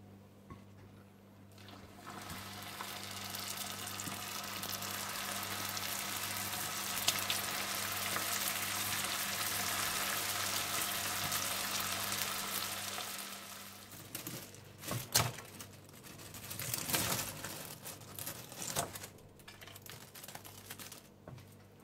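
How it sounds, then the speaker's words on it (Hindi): Prawn balls fry in hot oil until golden brown, giving a steady, moderate sizzle that runs on without pause. A few louder bursts of bubbling and stirring come near the end, with no talking. "इसी तरह से आप सारे प्रॉन बॉल्स को फ्राई कर लें।"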